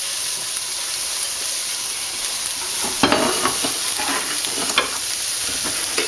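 Garlic and sliced onions fry in a hot pan with a constant bright sizzle, while a spoon stirs them through in a few scraping, clattering strokes.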